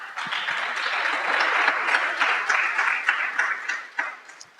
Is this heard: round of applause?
yes